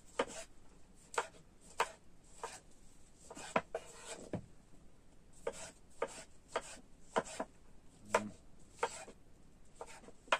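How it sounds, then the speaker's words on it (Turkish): Sharp knife strokes on a cutting board, chopping tomatoes in an irregular series of crisp taps, close and clear with no talking. "İki tane de domates doğrayalım."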